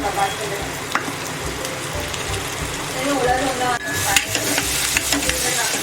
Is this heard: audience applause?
no